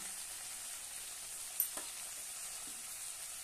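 Whole lentil masala with red chili powder, coriander powder, turmeric, garam masala and salt sautés in oil in a pan, a faint steady sizzle with a couple of small clicks of stirring.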